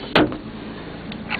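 A power sunroof motor on a 1995 Pontiac Bonneville SSEi hums steadily and quietly inside the car, opening with a brief click or thunk.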